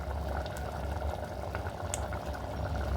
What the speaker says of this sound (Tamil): இப்போ பச்சை வாடையெல்லாம் போயிட்டு நல்லா வந்து கொதிச்சிட்ருக்குங்க